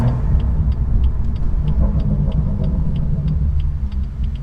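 A BMW M2 with the N55 engine and M Performance exhaust drones through a tunnel, a loud, close, continuous deep rumble that holds steady throughout with echoing reflections.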